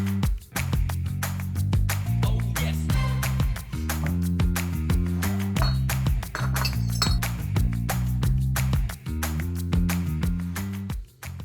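Glass jars and their lids clink repeatedly while being sanitized before bottling Carolina Reaper hot sauce, a steady run of bright, ringing knocks close by.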